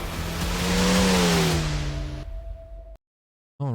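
A Ferrari 296 GT3 race car in iRacing accelerates loudly with a rising engine note, shifts, and holds a steady tone before cutting to near silence for a moment, then the engine roars back.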